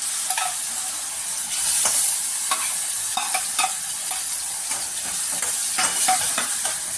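Vegetables sizzle steadily in a hot pan for spaghetti sauce, with repeated soft scraping and stirring strokes from a utensil, close up and without talk.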